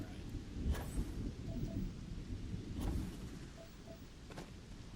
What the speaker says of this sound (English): Nice soothing thunderstorm on Montara Luna.